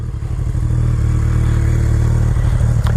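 A 2006 BMW K1200R Sport motorcycle fitted with a Technic titanium exhaust idles nearby in the rain, its engine a steady, loud, throbbing rumble throughout with no talk.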